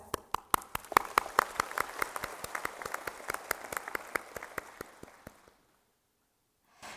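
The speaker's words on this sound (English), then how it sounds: "Please give them a big round of applause." Audience applause at a 2022 graduation ceremony on the Hanoi campus: a burst of many hands clapping in a quick, dense rhythm, fairly close, that fades out after about five seconds into silence.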